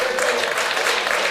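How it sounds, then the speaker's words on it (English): Debate audience applauding at a Wisconsin congressional debate, a steady dense wash of clapping hands that holds evenly loud for the whole moment with no voices on top. "hold your applause till the end."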